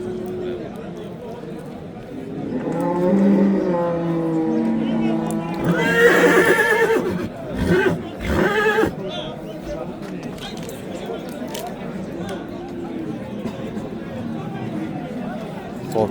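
Horses at a livestock market in Urgut, Samarkand, with a loud whinny and scattered hoof and crowd noise in a busy open-air setting while people talk throughout.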